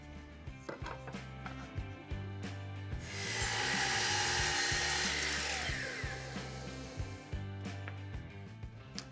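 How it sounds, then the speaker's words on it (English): A miter saw cuts wooden stiles at a 45-degree angle, giving one loud whining cut that swells and fades midway, with workshop clatter and knocks before and after it. "I'll be cutting the stiles first at 755 millimeters, long point to long point of a 45-degree miter."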